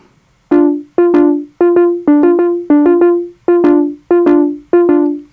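A synthesizer in Bitwig plucks a repeating polymetric sequence of short bright notes in an uneven, shifting rhythm, each decaying quickly, clear and up close.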